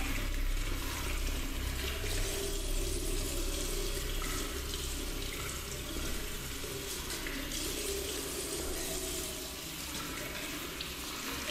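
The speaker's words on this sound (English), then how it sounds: "Okay, I get that water is running" Water runs steadily from a tap in a subway station restroom in a horror video game, a continuous close hiss and splash that holds evenly throughout with no voices.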